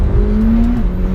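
McLaren 720S sports car engine accelerating hard on a first drive, a loud steady roar with a rising tone heard close from inside the cabin, no talk.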